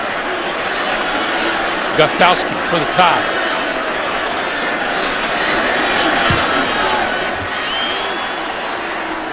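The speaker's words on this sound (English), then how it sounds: "the officials are welcomed back to work by a chorus of boos" A large Buffalo stadium crowd at a New England Patriots versus Buffalo Bills football game roars with sustained booing aimed at the officials, a dense, steady wall of sound under a commentator's voice.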